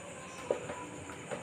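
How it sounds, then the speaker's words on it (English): A train rolls along a railway track, giving a faint, steady rumble with a few soft clicks and knocks scattered through it. No voices are heard. "train moving on the railway track"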